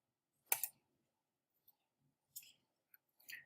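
Several sharp clicks from a computer mouse while setting up a NEM cryptocurrency wallet. A crisp double click comes first, followed after a pause by a few fainter single clicks, all close with quiet between them and no talking.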